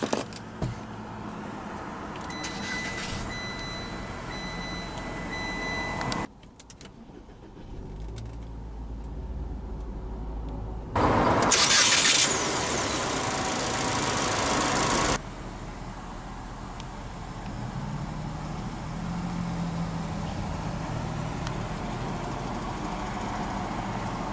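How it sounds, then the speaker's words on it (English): A 2024 Mitsubishi Eclipse Cross SEL is started with its push-button ignition: after interior shuffling and quiet moments, the engine catches in a loud surge and then settles into a steady, low idle that carries on to the end. "let's go ahead and start the engine, and it does have a push-button ignition"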